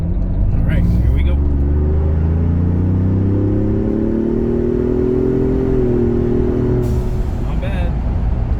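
A 2025 Ford Bronco Stroppe Edition accelerates hard up an empty highway on-ramp, its engine note climbing steadily in pitch through a long pull with loud, continuous road and wind rumble around it.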